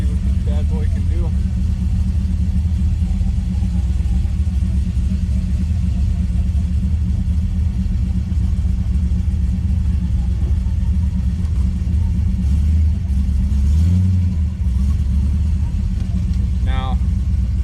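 A brand-new LS3 V8 with a 600-lift cam in a third-generation Camaro idles with a deep, steady rumble, then briefly revs louder before settling back.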